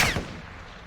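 Single gunshot in a pistols-only round of a tactical shooter video game, a sharp loud crack at the very start with a short decaying tail that fades out.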